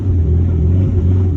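A Mitsubishi Evo 4 driving with a suspected clutch fault, giving a loud, steady low engine rumble and drone close up with no talking.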